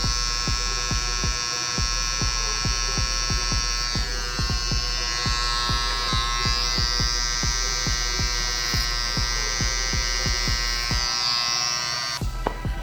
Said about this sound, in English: now I'm gonna go in with my Hi-Viz trimmer and I'm gonna line up his edges